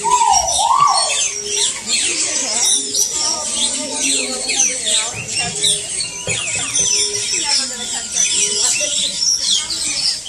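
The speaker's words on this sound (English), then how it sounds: "All of the bird noises in one place." Many birds calling together in the walk-through aviary at Disney's Animal Kingdom, a dense steady chorus of chirps, squawks and coos with a brief rising whistle near the start.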